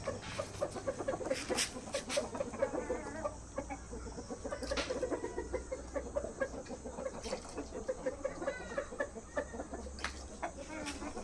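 A flock of chickens clucks and murmurs continuously at moderate distance, with scattered sharper calls rising over a steady low background hum.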